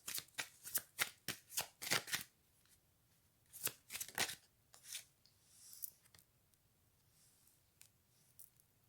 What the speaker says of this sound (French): Alors on dit qu'on prend une dernière carte.